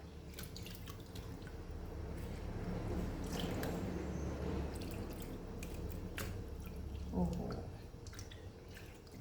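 Young limes are squeezed by hand for candied lime juice, giving soft wet squishes and scattered drips over a low background murmur.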